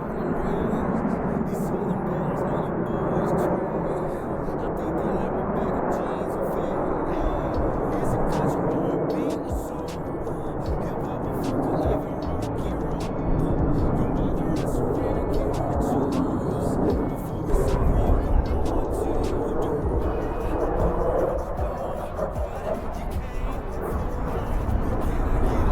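Jet formation at a Fleet Week airshow performing a split S and dynamic separation break, a steady loud broadband roar of jet engines holding throughout with a surge near the end, voices talking over it.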